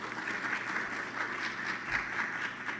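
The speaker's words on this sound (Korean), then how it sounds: "우리 박수로 맞아주시면 감사하겠습니다." Steady applause from a church congregation during a Sunday service, dense and continuous clapping that stays even throughout without any voices on top.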